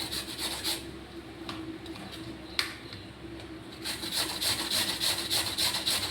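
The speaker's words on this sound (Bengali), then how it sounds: "থোরটা ঘষে এইভাবে ঘষতে হবে।" A banana stem grated by hand, giving repeated rasping, scraping strokes close by that grow denser and louder in the second half.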